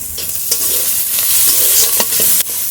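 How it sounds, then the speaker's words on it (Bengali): Sliced onion, capsicum, green chilli and other vegetables fry loudly in oil in a pan, a dense steady sizzle broken by a few close stirring scrapes. "সব সবজিগুলোই একটু হালকা করে ভাজতে হবে,"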